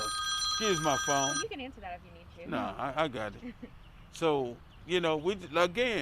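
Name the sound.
mobile phone ringing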